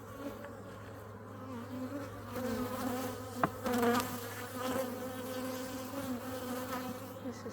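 Honeybees buzzing around an open hive while a wax frame is inspected, a dense, steady drone close by with a swelling burst midway and a faint tap.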